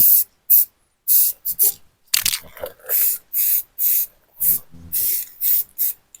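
Rapid, close bursts of anti-rust spray paint hiss over the welded seams of a steel floating fish cage frame, about a dozen short sprays in a quick uneven rhythm, with a brief stretch of talk in the middle.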